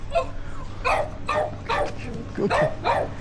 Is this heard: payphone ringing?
no